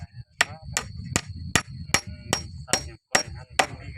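A stake is hammered into the ground with about ten sharp, evenly spaced metallic blows, close and loud, each followed by a brief ringing tone, with no talking.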